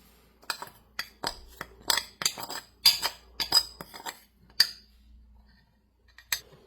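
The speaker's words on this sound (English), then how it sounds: "We're going to give it a nice stir until it's dissolved." A utensil stirs McCormick pork gravy mix and flour into broth, clinking against the pot or bowl in a steady series of close, sharp taps and scrapes, with no voices.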